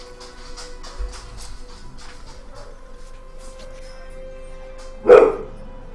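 A pet dog indoors barks at a neighbor outside, a few faint muffled yips early on and then one loud close bark near the end, with quiet background hum and no talking.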